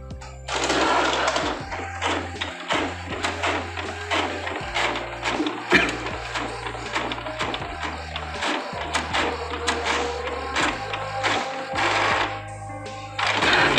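A printer runs off booklet pages, its mechanism whirring and clacking in a busy rhythmic pattern with repeated feed cycles and short pauses between pages, close and fairly loud.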